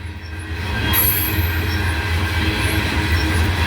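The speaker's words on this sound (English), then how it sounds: "45 miles an hour maximum speed for this train on this track." Freight train rolling past at close range on a hilly, curving track, a loud continuous rumble of railcars with wheel squeal and rhythmic clatter, the noise swelling after the first second and staying steady.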